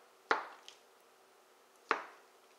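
Two crisp knife chops through a slab of tofu onto a cutting board, about a second and a half apart, close and clean with quiet between them.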